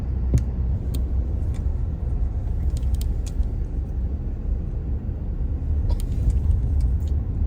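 A car rolls slowly along a road under construction, a steady low rumble of engine and tyres filling the interior, with a few faint clicks and jangles over it.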